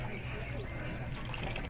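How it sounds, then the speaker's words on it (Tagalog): Water from a tap runs steadily into a plastic bag, a continuous close trickling rush filling the short moment, with faint talk mixed in. "Ipatungog sa gripo dayon paagasan."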